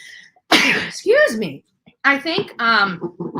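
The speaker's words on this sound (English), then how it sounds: "There's that sneeze." A single sharp sneeze bursts out near the start, followed by a person talking.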